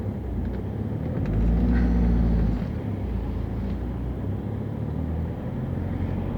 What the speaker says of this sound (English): It's got a nice smooth diesel sort of sound.